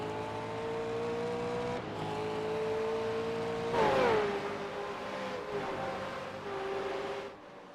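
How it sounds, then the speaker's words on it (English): V8 race car in a racing video game at Circuit Gilles Villeneuve, engine droning steadily, then braking and a brief pitch drop through a chicane before accelerating again, loud and continuous with no talk. "You can see the car speed slow, and then trying to get the power down."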